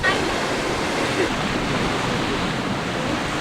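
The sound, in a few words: loud ocean waves ahead of a storm in Cancun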